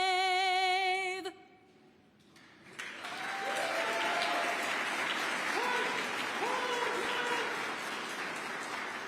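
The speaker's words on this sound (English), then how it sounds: "Let's give one more round of applause for our Air Force Color Guard and for Staff Sergeant LaCour." Crowd applause at an outdoor Veterans Day event in New York City honoring an Air Force Color Guard, a steady wash of clapping that swells after a brief quiet and holds loud through the end, with a few voices calling out faintly.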